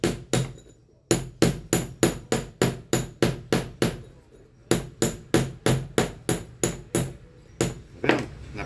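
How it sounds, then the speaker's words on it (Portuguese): Steel hammer blows strike a fan rotor shaft resting on a solid metal base, about twenty sharp ringing impacts in a quick steady rhythm with brief pauses, loud and close with no talking. "Aqui no eixo aqui eu vou fazer umas marcações com o martelo para poder cravar o rotor quando ele encostar aqui dentro novamente"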